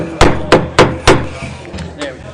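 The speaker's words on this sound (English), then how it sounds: "All right, that gavel works." A gavel strikes four times in a steady, evenly spaced rhythm at a city council meeting, loud and close, followed by two softer, quicker taps.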